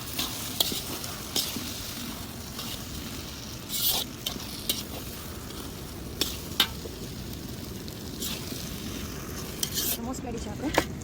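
Manchurian mixture is stirred in a pan with a soft sizzle underneath, broken by scattered scrapes and utensil clinks against the pan.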